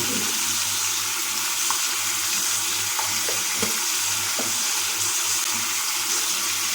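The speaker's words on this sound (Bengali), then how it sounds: "যেহেতু লবণ যোগ করেছি তাই আবার আমরা দিয়ে এটাকে বেশ কিছুক্ষণ নাড়িয়ে নেব" Bottle gourd stems being turned with a spatula in a hot frying pan, a steady low sizzle with soft scraping knocks now and then, alone without voices.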